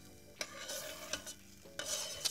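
Butter melts and sizzles gently in a pan on low heat, with a soft hiss broken by a few sharp scraping stirs up close.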